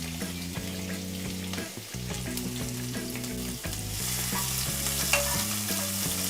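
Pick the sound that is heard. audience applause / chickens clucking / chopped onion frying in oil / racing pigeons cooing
chopped onion frying in oil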